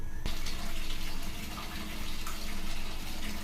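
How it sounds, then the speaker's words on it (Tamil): Water poured into a pot of rasam on the stove, a steady close gushing splash that starts abruptly and runs continuously, swelling and easing slightly, with no talking. "எவ்வளோ தண்ணி தேவையோ கொஞ்சம் ஊற்றிக்கலாம்"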